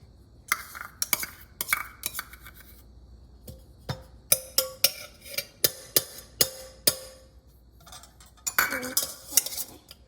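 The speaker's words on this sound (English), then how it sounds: "we're gonna first add the butter to our bowl" Butter going into a bowl for eggless chocolate chip cookies, marked by close, repeated metal utensil clinks and scrapes against the bowl in an irregular rhythm, with no talk.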